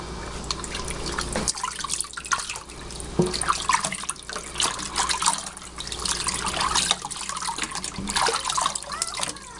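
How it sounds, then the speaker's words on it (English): Tap water runs and splashes at home while a small brown dog is bathed, a soft continuous trickle and dribble with scattered drips, fairly quiet and close. "Are you getting a bath, Penny?"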